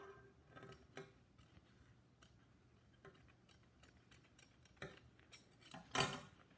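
Scissors cut through layered tissue paper being made into paper flowers, giving faint, crisp snips and rustles at an irregular pace, with one sharper snip near the end in an otherwise quiet room.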